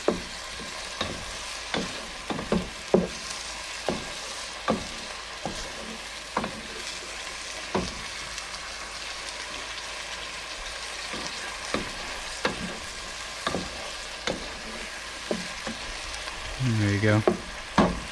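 Tomato sizzling and frying in a pan for Filipino binagoong pork, with a steady hiss broken by regular scraping stirs every second or so and a brief clatter near the end.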